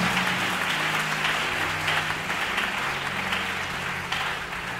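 A church congregation applauds, with sustained, dense clapping from many hands filling the space, steady and fairly loud throughout, with faint voices mixed in.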